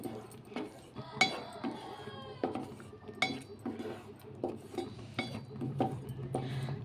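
Paneer masala curry stirred in a cooking pan, with a run of light metallic clinks and scrapes of a spoon against the pan, some sharp and some soft, coming close and irregular with no talk over them.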